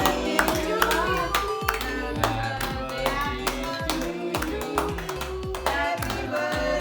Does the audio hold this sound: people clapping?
yes